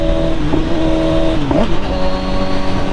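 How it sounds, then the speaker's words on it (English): A motorcycle downshifts with a quick throttle blip to match revs: a steady engine drone, a brief sharp rise and fall in pitch as the gears change, then the drone continues, close and loud. "So, you hear the rev match."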